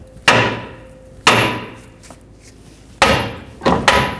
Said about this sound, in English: And now we're gonna tap on the knuckle so that it can break free from this ball joint stud.